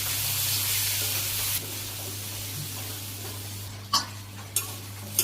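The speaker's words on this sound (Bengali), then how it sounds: "আমি ভালো করে কষিয়ে নিই" Potatoes with spices and green chillies sauté in a pan, with a loud hissing sizzle that eases partway through, followed by a few sharp scrapes of a spatula.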